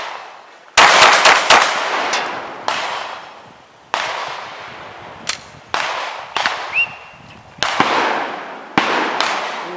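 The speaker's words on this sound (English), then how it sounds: "So, a little bit of rapid fire just to show you that this thing does stay on." Glock 19 Gen5 pistol fired rapidly outdoors, loud sharp cracks in quick clusters followed by single shots with ringing echoes, about a dozen reports in all.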